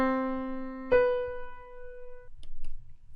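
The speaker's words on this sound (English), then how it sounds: "And finally we have our major seventh, which sounds like this" A major seventh interval, with a sustained low note already sounding and a higher harmonic note struck about a second in. Both ring clearly and decay together into near silence.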